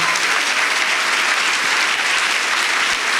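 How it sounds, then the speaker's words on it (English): Steady audience applause fills a hall at a CUFI event honoring Senators James Lankford and Jackie Rosen, dense and even throughout with no voices rising above it. "give them a round of applause"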